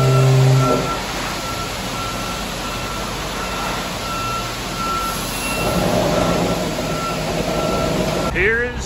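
A concrete truck reverses at a pole barn build site, its loud engine rumbling steadily while a repeating backup beep sounds through the noise, heard nearby.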